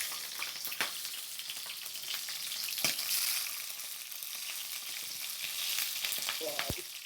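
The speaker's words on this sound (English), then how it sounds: "let's start to do fry the prawn" Prawns frying in a pan produce a constant close sizzle and crackle, with occasional sharper pops and stirring scrapes, no voices.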